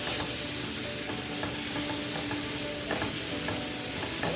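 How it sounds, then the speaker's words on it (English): Oxtail pieces sizzling and steaming under the lid of a covered pot: a loud, constant frying hiss with faint crackles throughout and no talking. "you're just gonna cover and let it steam some before you start to add any water to it"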